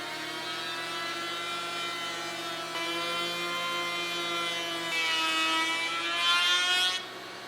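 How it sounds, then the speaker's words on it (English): A router fitted with a panel raising bit's back cutter trims around the edge of wood panels, giving a steady, loud, high-pitched motor whine with a slight rise in pitch and intensity toward the end. "I'm going to use the back cutter of a panel raising bit and go all the way around the perimeter of each panel"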